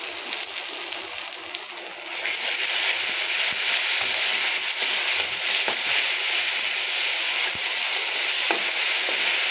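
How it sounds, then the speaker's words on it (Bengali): Onion frying lightly in a pan with cumin paste, chilli paste and garlic paste, a steady dense sizzle that swells louder after the first two seconds, with a few soft stirring clicks over it and no talk. "আমি পেঁয়াজটাকে একটু হালকা ভাজা ভাজা করে নিই"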